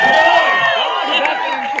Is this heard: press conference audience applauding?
yes